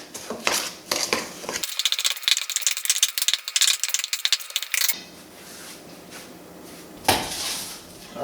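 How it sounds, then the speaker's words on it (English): Crab cake ingredients are stirred in a bowl, giving off wet, rattling scrapes and clinks of a utensil against the bowl in irregular bursts, with a few sharper knocks near the end. "So I'm gonna mix all of this in."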